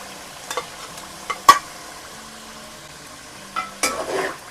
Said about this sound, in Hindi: और दोबारा से भून लेंगे।